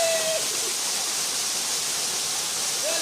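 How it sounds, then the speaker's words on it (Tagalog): Lubong Falls waterfall in Zambales pours in a loud, steady broadband rush, close and unbroken, with a faint whistle-like tone at the start and end. "Lubong Falls!"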